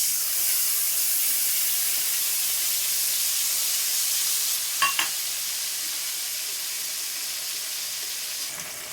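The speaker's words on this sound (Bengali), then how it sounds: "পেঁয়াজটা ভাজা হয়ে গেছে, এবার আমি আগে থেকে ভিজিয়ে রাখা মশলাটা দিয়ে দিচ্ছি।" A soaked spice paste sizzles and fries with already-browned onions in hot oil, a steady bright hiss throughout with a couple of brief clinks midway.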